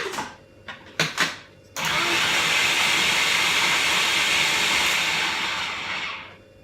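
An electric food processor whizzes Scottish onion, a loud steady whirring blast that runs for about five seconds and then winds down, after a few short knocks at the start.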